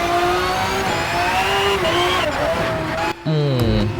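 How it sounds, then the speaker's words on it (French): A race car engine in Shift 2 on the Nürburgring roars and revs at high pitch, shifting up and down, with a brief cut and a deeper rev at the end. "Les sons de moteur sont incroyables, écoutez-moi cette dinguerie là."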